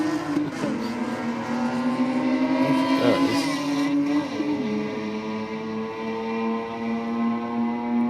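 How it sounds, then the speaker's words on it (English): A drag racing truck engine at Sydney Dragway revs hard at high RPM, a loud, sustained roar rising in pitch, then dropping briefly as it shifts and climbs again. "Oh, big RPM again."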